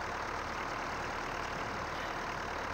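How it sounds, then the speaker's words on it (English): A farm vehicle engine idles steadily in Farming Simulator 19, a constant even drone with no change in pitch, moderately loud and heard alone. "Engine's all running fine."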